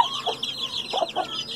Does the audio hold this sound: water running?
no